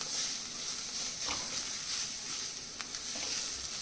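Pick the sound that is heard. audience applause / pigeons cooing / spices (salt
spices (salt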